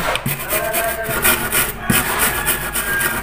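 A burnt coin scrubbed vigorously, loud continuous rasping strokes up close with an even back-and-forth rhythm and an occasional knock.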